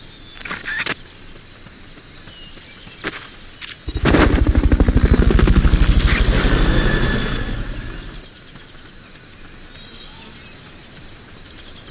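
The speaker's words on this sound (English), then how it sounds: "Fulton recovery helicopter is complete." A video game Fulton recovery helicopter in Metal Gear Solid Peace Walker HD swells in loudly with a throbbing rotor, holds for a few seconds, then fades away, with a few sharp clicks beforehand.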